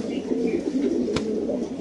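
A pigeon at a breeder's loft coos in low, throaty, repeated calls, close and clear over a soft background hum, with no voices.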